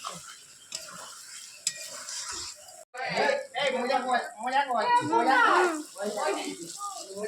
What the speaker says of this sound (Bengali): তো এখনো হালকা আঁচ করে আমি কষিয়ে যাচ্ছি